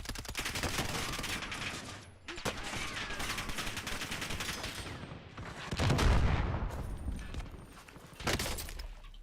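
Rapid automatic gunfire rattles in Call of Duty: Warzone on Rebirth Island, long dense bursts with brief pauses and a heavier impact near the middle, loud and close with no talking over it.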